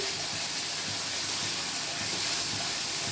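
Paste for a kakrol (spiny gourd) bharta sizzles in a pan over a high gas flame, giving a loud, steady, unbroken hiss with no voices.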